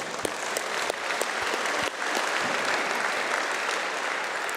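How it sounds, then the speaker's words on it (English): A crowd at the final of the 2025 Foot Locker U18 Nationals basketball tournament bursts into dense, sustained clapping and cheering, loud and close throughout with sharp individual claps standing out. "So to us boys, come on, clap."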